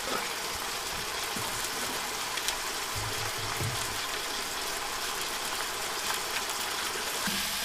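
Water runs into a cooking pan with rice on the stove, a continuous rushing, splashing wash that stays steady and fairly loud throughout, with occasional low knocks underneath.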